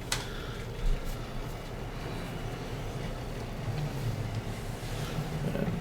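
Tractor driving in the Farming Simulator 19 video game, a steady low engine rumble with a faint airy wash, continuous and unchanging apart from one brief thump near the start.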